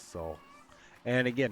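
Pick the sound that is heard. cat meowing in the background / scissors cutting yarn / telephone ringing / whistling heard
cat meowing in the background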